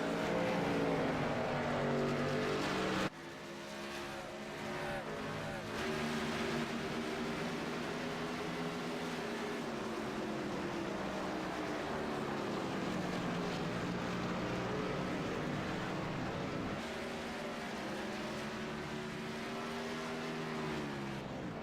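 Race cars roar past steadily on a track during qualifying, a continuous engine drone with shifting pitch that is louder in the first few seconds, with no talk over it.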